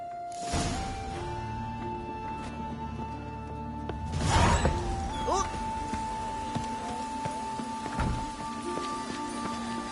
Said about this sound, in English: Must like the rain, that one.